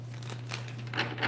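A tarot card deck being shuffled, soft quick papery riffles and crinkles, faint and close, over a low steady hum.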